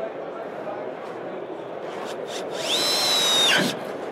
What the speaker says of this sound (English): screw gun.